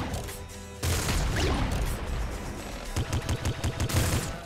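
Barrages of weapon fire in the video game Nuclear Throne: a loud burst of gunfire followed by a rapid series of five or so punchy shots in a steady rhythm, close and dominant with no talking.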